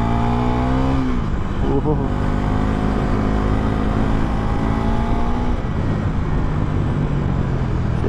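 A Bajaj NS400Z motorcycle, 155 kg, accelerating hard, with a loud engine note that rises and shifts over steady wind rush, and a voice briefly exclaiming.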